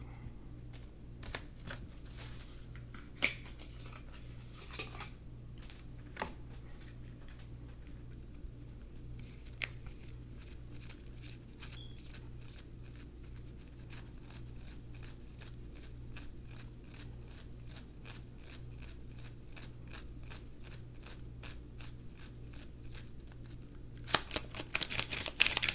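Tarot cards shuffled by hand over a long stretch, a soft steady run of quick papery flicks and riffles at close range that grows busier and louder near the end.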